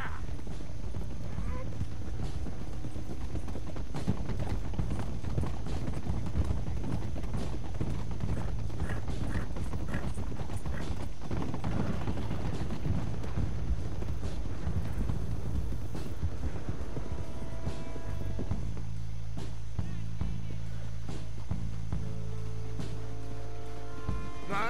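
Horses gallop in Red Dead Redemption 2 as a posse of riders sets off, a steady clip-clop of hooves running under dense game music and rumbling, with voices talking and shouting over it.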